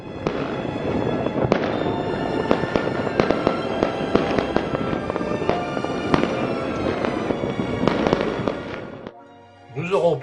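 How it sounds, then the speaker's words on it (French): Dense fireworks and firecrackers bursting all around the bay of Naples, loud overlapping bangs and crackles rolling continuously from near and far, ending with a brief lull and a voice. "Chacun de sa terrasse, de la rue ou de sa fenêtre tire son propre feu d'artifice, en chœur avec toute la baie de Naples."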